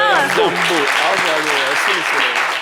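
Studio audience applauding on a French-language TV talk show set, dense clapping throughout with cheering voices and a host's voice running over it.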